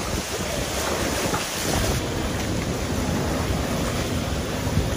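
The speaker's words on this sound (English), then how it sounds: "the strongest winds, this is it right here" Strong Hurricane Sally winds roar inside a flooding parking garage, a loud, unbroken rush of gusting air that buffets the microphone throughout.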